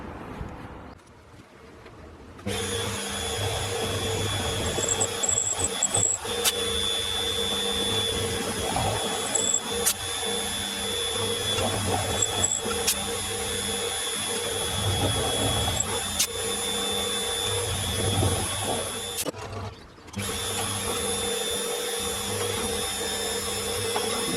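A drill bores holes in a part for a homemade tool and cutter grinder, a steady loud motor whine with a few short pauses and clicks between cuts.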